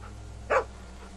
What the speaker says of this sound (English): Lucky that dog got a collar on it.